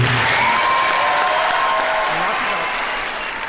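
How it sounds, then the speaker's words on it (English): Sustained audience applause at a talent show before a young yodeler performs, steady and dense throughout, fading slightly toward the end. "Applause, please"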